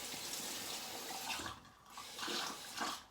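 Running water rinses shaving lather made from Salt Lake Soaps Attitude soap and a boar-bristle brush, coming in a few close splashing bursts that swell and fade, without talk.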